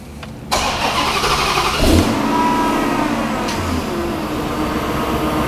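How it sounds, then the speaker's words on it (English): A Dodge Hellcat Hemi V8 cranks and fires at about half a second, surges briefly near two seconds, then settles into a steady, loud idle close by, with no talking. "So let's go ahead and fire this engine up and see where we stand with its oil pressure."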